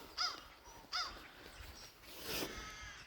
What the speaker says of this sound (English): There's a whole bunch of birds up behind the house, up in that tree.